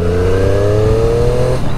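Triumph 660 motorcycle under full throttle in third gear from about 45, its engine note climbing steadily in pitch for a second and a half before easing off, loud and close.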